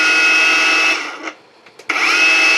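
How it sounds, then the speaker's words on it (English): A non-Makita angle grinder running on a Makita battery whines steadily at speed, drops away briefly as it slows, then surges back to a loud, constant spin. "My grinder, does this not spin round?"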